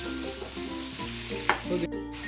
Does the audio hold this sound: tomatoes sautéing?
yes